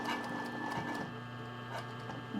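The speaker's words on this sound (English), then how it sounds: "So I'm going to sew down the stem." A sewing machine runs steadily and close by, stitching down the stem of a lace appliqué with a continuous mechanical hum and faint ticking.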